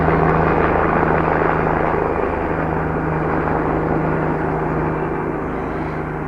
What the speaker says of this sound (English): a fucking helicopter just comes in out of nowhere